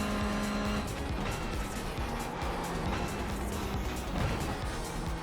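Toyota GR86 race car on a qualifying lap in iRacing, the engine droning steadily and close as it revs through gear changes, with tire squeal and scrubbing through corners and no talking.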